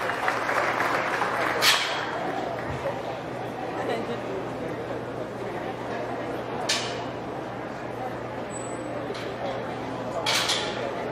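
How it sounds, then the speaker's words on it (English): A county fair swine show crowd claps in the open air, a scattered, moderately loud applause running under a continuous announcer's voice and a steady background hum. "Commend those kids with a good round of applause."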